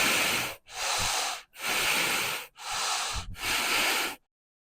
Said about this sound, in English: Inhale, flex forward. Exhale back, powerfully inhaling and exhaling.